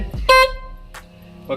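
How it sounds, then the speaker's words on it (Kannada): A Maruti Swift car with a faulty horn gives a couple of brief honks close by, one short loud blare followed by a fainter clipped toot and a third starting at the end. "ಹಾರನ್ ಸೌಂಡ್ ಕೇಳ್ಕೊಳ್ಳಿ, ಹೊಡೀರಿ ಹಾರನ್."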